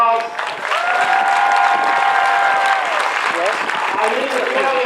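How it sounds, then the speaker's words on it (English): A crowd at an Air Force basic military training graduation parade gives a loud, sustained round of applause for the military training instructors, with a few voices calling out over the clapping. "Would you give them a round of applause?"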